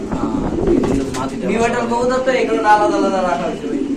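Mundian pigeons at a sale coo softly in low, throaty warbles, close by and mixed with someone talking over them.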